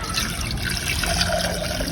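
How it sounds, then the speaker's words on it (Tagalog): Water pours from a container into a pot for boiling eggs in very hot outdoor heat, a continuous close splashing trickle that stays steady and unbroken for the whole moment. "Lalagyan natin ng tubig"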